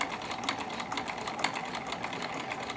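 A Husqvarna Viking-made White Euroflair 8910 sewing machine stitching with the presser foot up, a steady, fast mechanical whir with a rapid needle patter, close and continuous, no voices.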